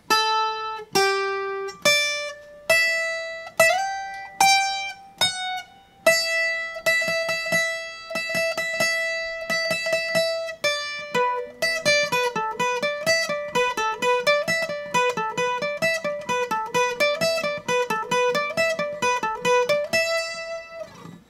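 A requinto guitar plays a lead riff from the start, opening with slow, spaced, ringing plucked notes, then moving into a quick steady run of repeating picked notes, close and clear with no voices.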